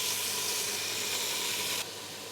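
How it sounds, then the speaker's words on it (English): Steak pieces browning in a hot pan for an Australian meat pie give a steady, loud sizzle and hiss that carries on without a break and drops slightly in level near the end. "Now I'm going to brown these in different batches."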